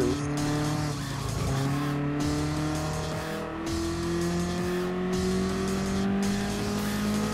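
A classic late-1980s BMW M3 Sport Evolution race car in Gran Turismo Sport roars through gear changes, its engine pitch climbing and dropping, with tire squeal on corners, loud and continuous without talk.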